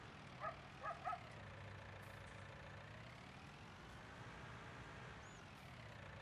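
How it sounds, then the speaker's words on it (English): Farming Simulator 19 tractor engine, on the Ravenport map, pushing a load: a steady low drone that rises slightly at times, with a few brief soft clicks near the start. "When in doubt, push it with the tractor."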